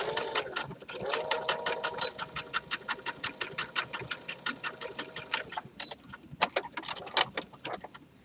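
Sewing machine stitching elastic into a gathered skirt, a rapid even train of needle clicks with a motor whine, close and loud, with a brief pause and a final burst of stitches; someone speaks over it.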